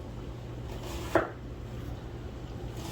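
A knife cuts an onion into slivers for a tortellini salad, giving one faint, brief chop against a board over a low steady hum.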